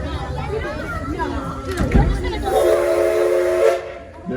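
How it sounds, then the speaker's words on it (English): A train engineer sounds the whistle once at a nighttime stop on a passenger ride: a single steady, sustained blast rising over background rumble and nearby voices. "the engineer will set the brake and he'll blow the whistle one time"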